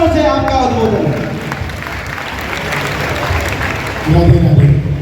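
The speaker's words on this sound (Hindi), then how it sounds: "जोरदार तालियों से आपका उद्बोधन है।" A crowd at a religious mahapanchayat gathering in Barsana claps in a dense, continuous wash of applause, swelling slightly at the end, with a voice audible over the noise.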